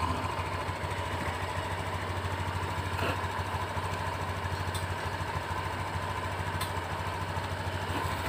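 A Honda Beat scooter engine runs at a steady idle, a constant buzzing putter with a few faint clicks and no speech over it.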